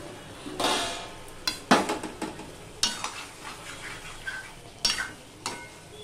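Fried potol and potatoes stirred in a sizzling pan, soft frying hiss punctuated by repeated spatula scrapes and clinks against the metal, close and irregular, no voices.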